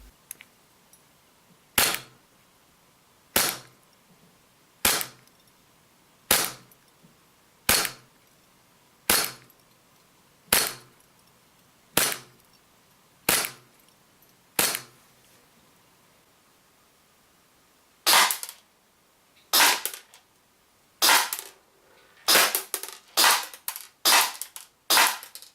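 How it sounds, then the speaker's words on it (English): An EMG Smith & Wesson M&P9 gas airsoft pistol fires BBs: sharp, evenly spaced single pops about every one and a half seconds, then after a brief pause a quicker, more irregular string of shots, heard up close. "let's get some BBs in the mag, and let's fire this thing"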